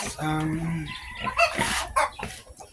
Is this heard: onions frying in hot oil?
no